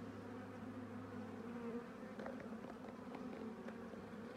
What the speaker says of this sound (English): See bees going in.